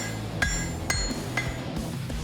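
Three evenly spaced, ringing hammer blows strike mild steel round stock being forged into a sword pommel, each a sharp metallic clang with a short ring, in a workshop with steady background hum and no speech.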